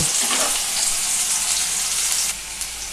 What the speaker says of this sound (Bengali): আলুটা আমি হালকা লাল করে ভেজে নেব